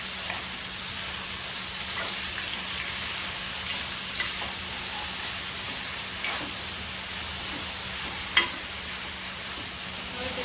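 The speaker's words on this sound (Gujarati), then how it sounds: "હવે એમાં આપણે આ ટામેટાં નાખશું અને બરાબર મિક્સ કરી લઈશું" Tomatoes frying in a pan for paneer masala, a steady hiss of sizzling with a few sharp scrapes and clicks as they are stirred in, heard close with no talking.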